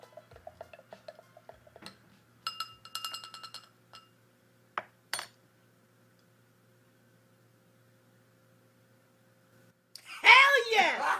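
A spoon stirs Soylent honey bourbon shots in a glass, giving short bursts of bright clinks and ticks separated by quiet gaps, with voices talking at the start and end.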